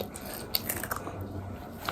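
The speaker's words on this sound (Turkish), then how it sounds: "Lahana da çiğ güzel oluyor ya kıtır kıtır" Crisp bites into raw cabbage during a raw vegetable eating challenge, with faint crunches and chewing up close at a low volume.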